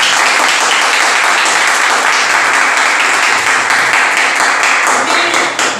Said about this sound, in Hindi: तो एक बार जोरदार ताली बजाओ।